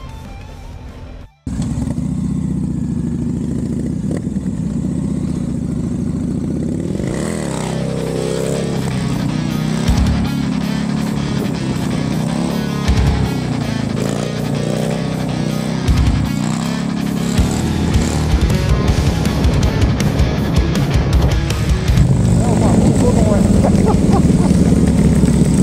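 Two motorcycles ride side by side, one the rider's own and the other Marcelo's, their engines droning loud and steady throughout after a brief cut near the start, with a wind-buffeted, rumbling tone.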